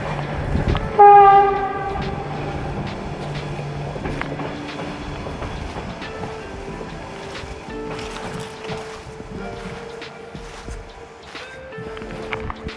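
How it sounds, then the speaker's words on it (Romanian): A train passes at a distance near the Banița Gorge in Hunedoara, Romania, its horn sounding briefly before a long rumble and clatter of wheels on track that continues throughout. "Chiar se aude trenul."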